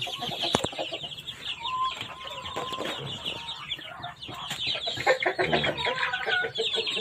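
Many chickens clucking and chirping at once in a crowded coop, a dense continuous chatter of birds packed close together, with no talking.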